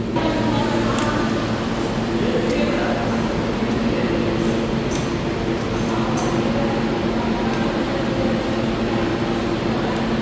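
Continuous loud rumbling and droning of a train beside the platform at a station, steady throughout, with faint voices in the background.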